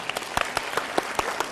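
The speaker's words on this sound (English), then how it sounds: "Now you can clap." A sparse audience claps at a motivational school speech, a handful of distinct, separate hand claps in an uneven rhythm, moderately loud and close, with no talking.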